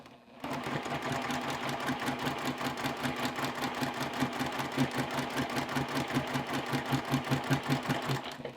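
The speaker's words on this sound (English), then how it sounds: "So I've got my standard foot on my sewing machine. I'm stitching at stitch length 2." A sewing machine with a standard foot stitching a diagonal seam to join quilt binding at stitch length 2: a steady, rapid mechanical whir and rhythmic needle chatter starting after a brief pause, close and continuous without talk.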